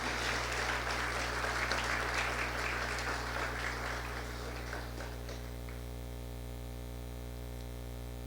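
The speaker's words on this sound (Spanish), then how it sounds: "Denle un aplauso al Señor." Church congregation applauding at a Spanish-language Resurrection service, a dense steady clapping wash for about five seconds that thins and fades out over strong electrical mains hum, which continues alone afterward.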